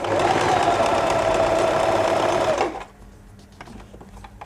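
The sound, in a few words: sewing machine stitching at stitch length 3, width 3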